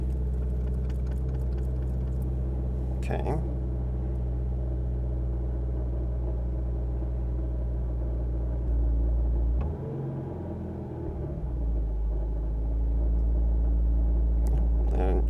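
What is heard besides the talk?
Subaru WRX STI engine running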